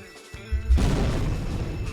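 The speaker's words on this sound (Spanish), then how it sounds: "Esa explosión." Bank-robbery explosion in Roblox Jailbreak: a sudden deep boom strikes after a short quiet lead-in, then rolls on as a loud, sustained rumbling blast with crackling debris until the end.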